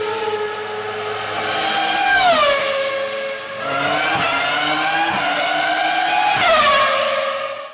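A Formula 1 race car's combustion engine screams at high revs, rising and dropping in pitch through gear changes and passes, loud and shrill throughout.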